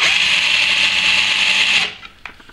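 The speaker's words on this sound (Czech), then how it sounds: "A už jenom vrtám." A cordless drill whirs steadily at high speed, close and loud, spinning to roll paper into a tube, then cuts off abruptly near the end, followed by a few faint clicks.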